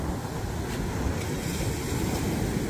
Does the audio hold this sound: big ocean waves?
yes